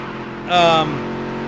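A race car engine revs and accelerates in the Dirt To Daytona racing game, a brief loud rising whine lasting under half a second, then dropping back to a steady engine drone.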